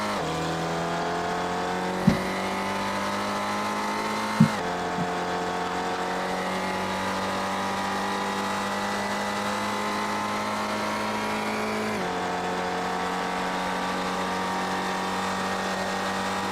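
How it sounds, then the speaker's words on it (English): Race car tires sliding through a tight right-left infield turn at an SCCA road race in Las Vegas, a sustained engine drone with faint scrubbing, a couple of sharp clicks early, heard from a distance. "You can hear the tires sliding here as well as they go through this tough little right left."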